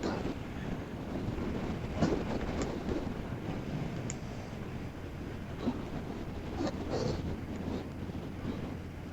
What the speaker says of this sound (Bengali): আর এখানে প্রচুর জোরে ঝোড়ো হাওয়া দিচ্ছে